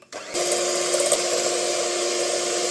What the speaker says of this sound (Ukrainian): Три яйця збиваємо.